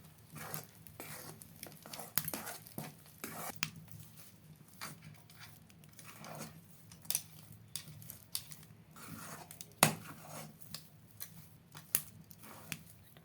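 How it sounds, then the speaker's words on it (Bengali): Rice flour dough is stirred in a pan over heat, giving faint, irregular scraping and soft squishing strokes, sparse and close, with a few sharper clicks of the spoon against the pan. "এরকম অনবরত নাড়িয়ে চাড়িয়ে একটা মণ্ড তৈরি করে নিতে হবে"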